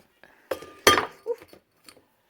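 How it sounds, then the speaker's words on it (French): Kitchen dishes knock together in a few sharp clinks, with one bright ringing glassy hit louder than the others, then a softer clatter. The sounds are close and brief with quiet gaps between them. "je casse la vaisselle."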